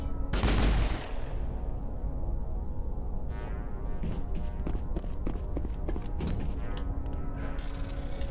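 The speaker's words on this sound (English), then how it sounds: "Those high explosive rounds." Explosive rounds fired in the Mass Effect video game: a loud burst up front, then a series of sharp cracks and impacts spread irregularly through the rest, over a constant game background hum.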